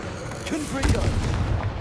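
Confringo fire blast spell from Hogwarts Legacy bursting in a booming, crackling explosion around the middle, with rumbling low-end thuds and bursts trailing off amid game noise.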